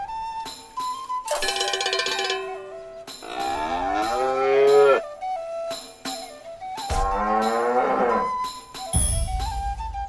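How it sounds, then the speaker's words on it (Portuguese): A farm cow in the video game South Park: The Stick of Truth lets out several loud, drawn-out moos, separated by pauses over a steady tinkling game soundtrack. "Use o sino de vaca para encontrar e derrotar a vaca da fazenda"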